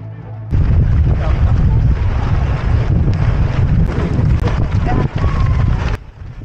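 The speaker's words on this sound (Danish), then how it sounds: "Det her, det er en af vores modvindstykker med god vind" A strong headwind batters the microphone during a half marathon run in Barcelona, a loud, continuous rumbling gust noise with brief dropouts, while a runner talks over it.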